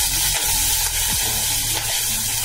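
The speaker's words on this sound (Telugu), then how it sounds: "ఇప్పుడు పచ్చిమిర్చి వేసుకొని అవి బాగా ఫ్రై అయ్యేంత వరకు వేయించుకుందాం" Green chillies fry in hot oil in a pan, a loud, close, continuous sizzle and crackle with brief stirring scrapes, and no voices.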